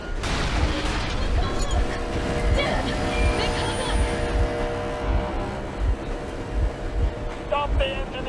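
In the video game Metro Exodus, a train engine rumbles steadily with rhythmic low thumps and a continuous mechanical drone, loud and sustained throughout.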